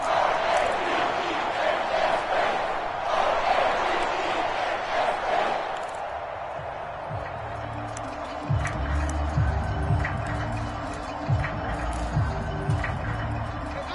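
Home crowd roaring at an NFL AFC divisional playoff game featuring the Ravens, a loud sustained crowd din that eases after a few seconds, with a commentator talking over it.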